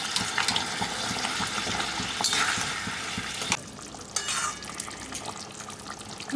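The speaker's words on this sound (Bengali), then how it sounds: "ঝোলটা ফুটে গেছে, এবারে আমি আলুগুলো ছেড়ে দেব।" New winter potatoes are dropped into a boiling curry broth for aloo dum, giving splashy, hissing bubbling with a couple of louder splash bursts over a continuous simmer.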